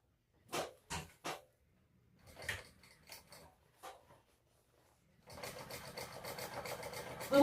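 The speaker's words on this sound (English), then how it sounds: "I'm just going to do that 1/16 of an inch stitching around that edge" Sewing machine stitching a 1/16 inch topstitch around the edge of a crossbody bag: a few short bursts early on, some quieter fabric handling, then a steady continuous run of stitching that rises at the end.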